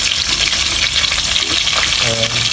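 Onions are dropped into hot oil and stirred in a home kitchen while beef and bitter gourd are being cooked, producing a loud, crackling sizzle with scraping stirring noises near the end.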